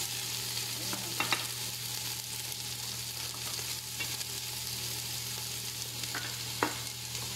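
Whole peppercorns, ginger and onion fry in a pan with a steady low sizzle, broken by a few brief spatula scrapes and clicks as they're stirred, close and moderately quiet throughout.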